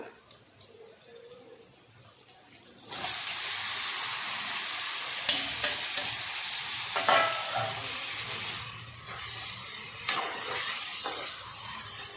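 Chicken for a chicken curry drops into a hot pan and breaks into a loud, steady sizzle, with scraping stirs and small clatters as it fries up close.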